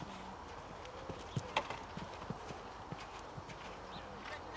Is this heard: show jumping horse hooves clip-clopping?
yes